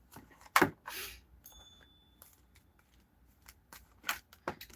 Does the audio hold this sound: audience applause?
no